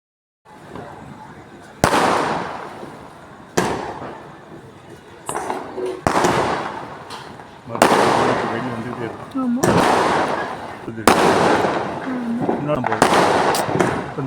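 New Year firecrackers and fireworks burst outdoors in a series of loud, sharp bangs every second or two, each followed by crackling and a rumbling echo.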